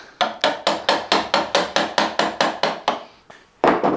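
Hammer tapping steadily on wood while a guitar volute is carved for an SG build, about a dozen close, sharp, evenly spaced knocks, a short pause, then another blow.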